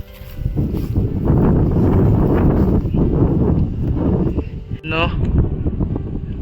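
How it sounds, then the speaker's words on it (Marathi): Wind blows hard through a cashew orchard in the Konkan, a steady roaring rumble buffeting close to the microphone, with a brief voice-like sound near the end. "वारा वगैरे सुटला आहे आणि बाग आहे आमची"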